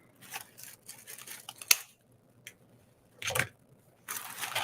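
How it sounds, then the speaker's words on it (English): A few quiet crisp snips of bandage scissors cutting ribbon for a homecoming mum, spaced apart with soft handling noises between them, close by and without talk. "Get my bandage scissors. These are awesome."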